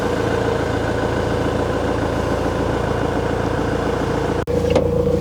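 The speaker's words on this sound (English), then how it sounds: "can I start the van?" A camper van engine in the Scottish Highlands running at a steady, close, low idle, broken by a brief dropout near the end before the rumble resumes, no talking.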